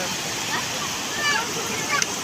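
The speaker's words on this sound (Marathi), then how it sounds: "धबधबा ठीक एवढं जवळ जायला पाणी लई झालंय" A waterfall at Shriram falls near Killa Dharur, Beed, roars as a steady broadband rush with splashing water, heard from a short distance back, with a few brief louder splashes near the end.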